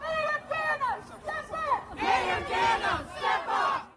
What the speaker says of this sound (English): the now surging crowd continued the march down Broad Street